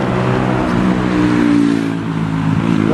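A loud motorbike revs hard nearby, a dense, steady engine roar with throttle swells that briefly dip and then climb again, filling the whole moment with no voices.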